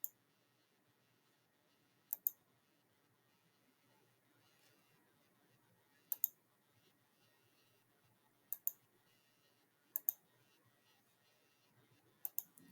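Computer mouse clicks while a GIS query is built, faint and sparse, mostly as quick double clicks spaced a couple of seconds apart in a quiet room.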